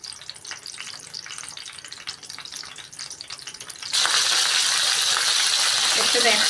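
Cauliflower pieces, washed and soaked in water and vinegar, shallow-frying in hot oil for a cauliflower maqluba: a quiet crackle that jumps to a loud, steady close sizzle partway through, with faint clinks from handling the pan.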